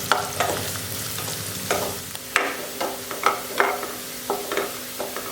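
Finely chopped onion frying in a pan for Mangalorean chicken ghee roast, a continuous sizzle broken by repeated scraping and tapping strokes of a spatula stirring it, close and clear.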